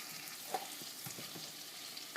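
Tomatoes soften in a hot pan, giving a steady faint sizzle broken by a few soft scrapes and clicks of stirring, with no voices.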